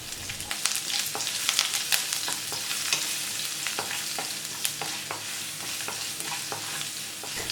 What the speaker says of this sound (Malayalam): 1 തണ്ട് കറിവേപ്പിലയും 5 വെളുത്തുള്ളി ക്രഷ് ചെയ്തതും കൂടെ ചേർത്ത് 2 മിനിറ്റ് ഒന്ന് നല്ലപോലെ വഴറ്റി